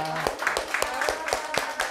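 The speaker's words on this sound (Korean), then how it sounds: "박수 환영하겠습니다" A church congregation claps to welcome a visiting missionary couple, a steady run of clear, evenly spaced claps at a brisk pace, fairly close and moderately loud.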